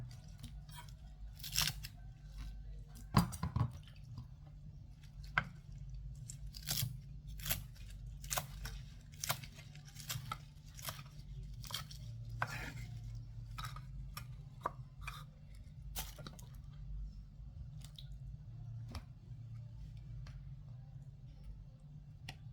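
A knife slices vegetables on a cutting board for a spicy Thai salad, producing sharp, irregular chopping clicks spread over the whole stretch, fairly faint above a low steady hum.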